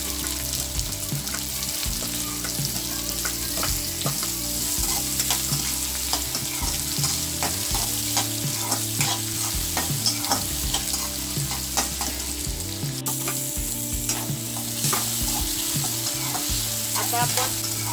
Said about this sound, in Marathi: सगळ्यात आधी मिरची आणि कढीपत्त्याची फोडणी द्या